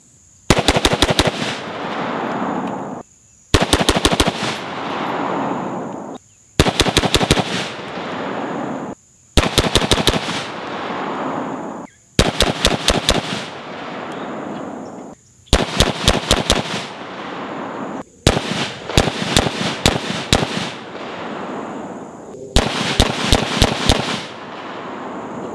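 Rifles fitted with a flash hider and a compensator fire strings of five rounds on a range, about eight sharp, loud volleys of rapid shots separated by pauses of a few seconds.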